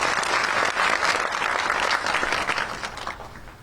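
Audience applause at a Koli community association meeting in Gandhinagar, a dense, steady burst of clapping from a large crowd that holds for several seconds and then tapers off slightly, with no talking.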